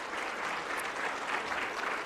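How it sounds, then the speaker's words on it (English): An audience at a local awards ceremony applauds steadily: a dense, continuous wash of many hands clapping at an even level, with no voices over it. "I want to give another big round of applause to Jasmine and her crew from El Rincon"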